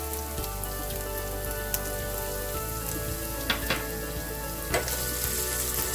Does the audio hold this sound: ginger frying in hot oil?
yes